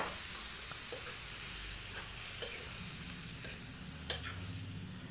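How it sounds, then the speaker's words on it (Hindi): Cooked bottle gourd and cowpeas being added to a hot pan for a home-style curry, producing a steady sizzle and hiss with a few soft clinks and stirring sounds. "और अब डालेंगे अपना जो कुकर में हमने पकाया था ये दूधी और चावली, वो डालेंगे अभी।"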